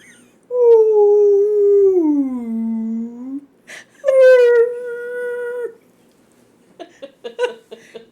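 A person imitates a humpback whale with long, loud, sliding moaning tones that sweep down and rise again, then a second sustained wail, followed by brief faint clicks and rustles.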